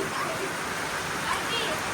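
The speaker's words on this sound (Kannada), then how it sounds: "ನೋಡಿ ಇವತ್ತು ತುಂಬಾ ಜೋರು ಮಳೆ ಬರ್ತಾ ಇದೆ." Heavy rain pours down in a steady, dense wash of noise, close and constant without letup.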